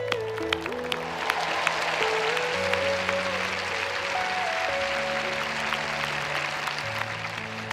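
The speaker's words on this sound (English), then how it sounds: "let's give the dads in particular a round of applause" A large audience at a Stanford speech applauds the fathers on Father's Day, with sustained crowd clapping filling the space while music plays underneath.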